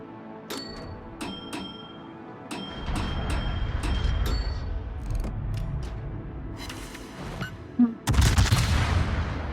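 Battleship main guns firing at an enemy battleship in a naval video game, several sharp booming salvos in irregular succession, then a heavy rumbling barrage near the end, loud and close.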